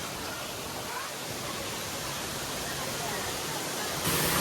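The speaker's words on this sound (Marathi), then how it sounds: "एवढ्यावरनं उंचीवरनं पाणी पडतंय" A waterfall at Amboli pours from a great height as a dense, steady broadband roar, loud and unbroken throughout.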